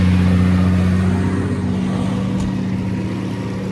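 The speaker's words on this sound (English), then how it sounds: "it's speeding up the motors, turning the bale here" Motors on a Kuhn round baler speeding up to spin the bale, a loud steady mechanical drone with a strong low hum, close and continuous throughout.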